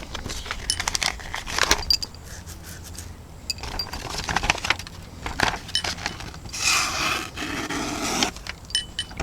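A Real Steel Horus thumbnail-opener folding knife slices through cardboard in a series of scraping, tearing strokes with crackling rubs and brief pauses, close and fairly loud.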